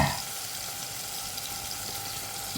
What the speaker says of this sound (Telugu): దీనికి లవంగా, చెక్క, 4 లవంగాలు, చిన్న ముక్క చెక్క తాలింపు వేసుకోవాలి.